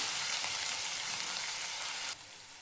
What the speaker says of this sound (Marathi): वाटण छान असं भाजून घ्यायचे तेलामध्ये.